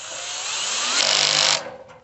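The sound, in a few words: power drill tightening bolts on fire pit table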